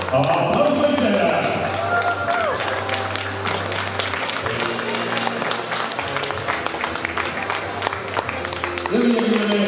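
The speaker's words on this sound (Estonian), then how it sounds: "Aplaus võitjale!" A crowd gives sustained, dense applause for the race winner at a finswimming award ceremony. The clapping holds steady throughout, with a voice heard briefly over it.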